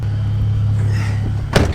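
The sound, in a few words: gasoline truck with 8-liter V10 engine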